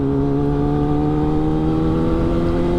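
Kawasaki ZX10R sports bike with new titanium headers, its engine idling in a steady, loud, even drone with firm low harmonics that hold level for the whole stretch, no voices over it.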